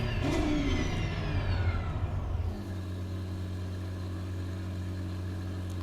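Porsche 911 GT3 Cup race car in Assetto Corsa Competizione at the Nordschleife, a loud close engine note that falls away on a downshift, then settles into a steady low hum for the remaining seconds.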